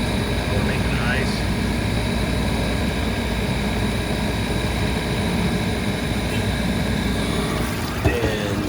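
Hoshizaki ice machine compressor running during an ice-making cycle, a steady, loud mechanical drone with constant hum throughout and a brief knock near the end, with faint speech mixed in.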